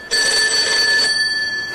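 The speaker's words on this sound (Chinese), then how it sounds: "电话响的也不是时" A telephone rings in one loud, bright electronic burst of about a second on a comedy sketch stage, then cuts off, leaving a quiet room.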